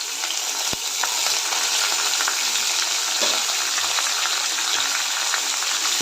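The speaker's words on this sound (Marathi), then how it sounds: "तेलामध्ये चांगलं परतून घ्यायचं आहे" Chopped green chillies, curry leaves, tomato, onion, peas and carrots fry in oil for oats upma, giving a loud, steady, close sizzle with no talking.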